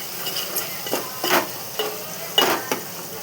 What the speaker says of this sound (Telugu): అల్లం వేసుకొని కొంచెం పసుపు వేసుకొని బాగా కలపాలి.